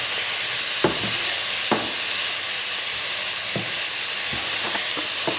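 Bacon and mushrooms fry on high heat in a pan, a loud steady sizzle and hiss with a few soft scrapes of stirring.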